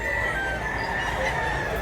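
Chickens and roosters at a Thursday poultry market in Mantalungon, Barili, Cebu, clucking and crowing steadily with a dense, busy flock noise throughout.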